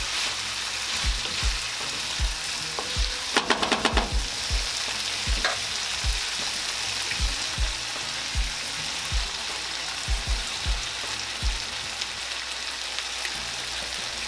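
Turkey teriyaki sizzles and fries in a pan as teriyaki sauce is poured in, giving a constant crackling hiss. Scattered clinks and stirring knocks sound close by, with a brief burst of harsher sizzling as the sauce hits.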